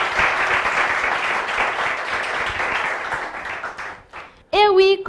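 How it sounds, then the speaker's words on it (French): An audience at a summer event gives a sustained round of loud applause that thins out toward the end. A voice speaks briefly as it dies away. "Cher public, je vous invite encore une fois à les applaudir très fort"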